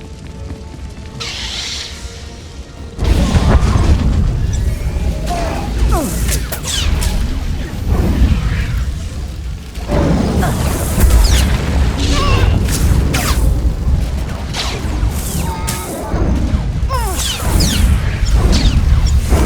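Heavy booms and crashing blasts go off repeatedly in a busy Star Wars: The Old Republic game soundscape on Onderon, with whooshes and debris between the loud hits.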